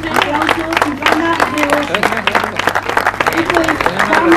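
Applause breaks out for a second-place finisher at a local awards ceremony, dense clapping mixed with a loud announcer's voice talking over it throughout.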